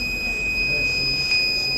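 An intelligent helmet safety system sounds its warning buzzer continuously because no helmet is mounted, a steady high electronic tone holding unbroken at moderate level over faint background hum.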